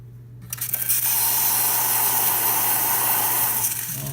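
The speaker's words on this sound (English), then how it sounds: "Next we'll do some steam." A loud, continuous hiss of steam rushes from a Quick Mill espresso machine steam wand after a brief quiet start, holding steady over a low hum.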